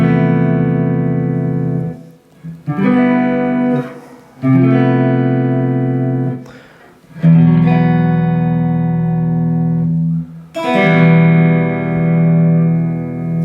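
An LT Custom Privateer Standard electric guitar with a humbucker, played on a clean setting: loud ringing chords that sustain for a few seconds each, with short breaks and a final strum left ringing out.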